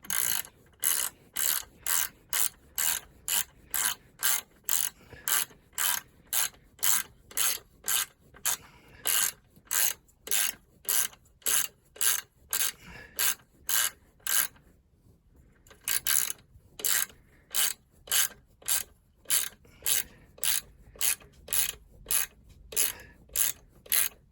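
A ratchet tightens the turbo clamp on a Volvo Penta TAMD41-P marine engine, its close, steady clicking strokes repeating for over twenty seconds with one brief pause midway.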